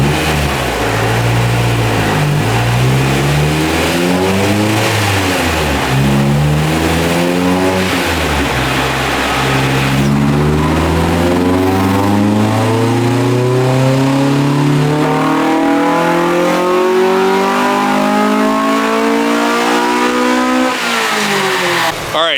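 Honda car engine, a stock Integra Type R or a bolt-on GSR Civic hatch, revving on a DynoJet dyno: a loud, sustained pull whose pitch climbs and drops repeatedly, then rises steadily to a high wail before cutting off.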